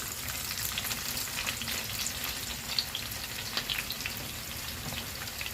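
Onion pieces hit hot oil and fry with a dense, even crackling sizzle, close and steady throughout, with small pops scattered through it and no voices.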